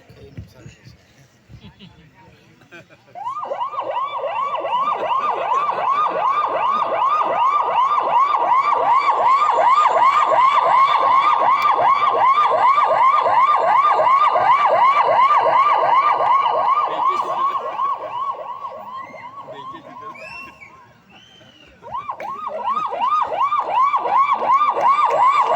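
A comedian performing at a village temple fair imitates a police vehicle siren with his voice, a loud, close, rising-and-falling wail that holds for about eighteen seconds, breaks off briefly, then starts again.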